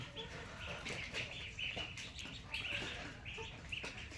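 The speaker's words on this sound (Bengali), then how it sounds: "এই মুরগিটা খেদাও তো" Chickens on a farm raising Beijing ducklings cluck and flap their wings in bursts, with a steady bed of farmyard background noise throughout.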